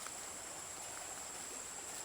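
A strong river current rushes steadily in a broad, continuous wash of water noise, near and fairly loud, with no talk over it.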